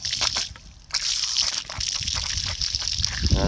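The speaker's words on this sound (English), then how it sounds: "now, just opening it up, and naturally, it comes out of here with a lot of force." Water gushes forcefully from a rain barrel through an opened 3/4 inch boiler drain valve, a steady close-up hissing rush with sloshing and splashing.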